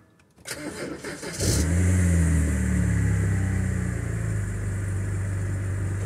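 A BMW car engine with a VANOS exhaust/crank fault cranks briefly, catches, and settles into a steady, loud running hum close by, with no talking.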